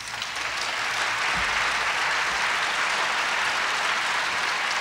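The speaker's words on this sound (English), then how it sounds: "They're very nice to clap." A large group of people claps steadily in a hall, dense applause at moderate distance that holds evenly throughout with no voices.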